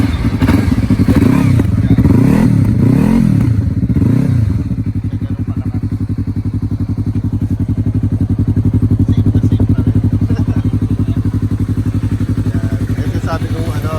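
Yamaha MT-03 motorcycle with an open exhaust silencer, idling steadily and loud up close after a few opening revs that rise and fall, with people talking over it.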